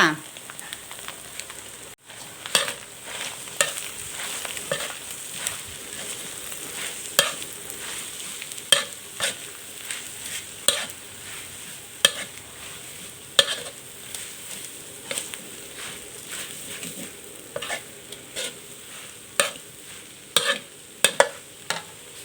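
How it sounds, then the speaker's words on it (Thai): Enoki mushrooms stir-fried in a pan, with a continuous soft sizzle broken by frequent sharp scrapes and taps of a spatula at irregular intervals throughout. "พัดเห็ดเข็มทองจนว่าสุกเลยเด้อจ้า"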